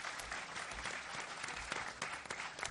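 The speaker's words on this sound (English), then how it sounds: "just a round of applause for the partners who have made this event happen" Sustained applause from an audience at a London mayoral hustings, dense and steady clapping throughout with no talk over it.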